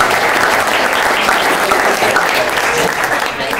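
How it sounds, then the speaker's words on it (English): An audience at a growth-hacking talk applauds to welcome a speaker to the stage, dense, steady clapping from many hands filling the room and continuing evenly throughout. "I'd like to give him a warm round of applause and welcome to the stage."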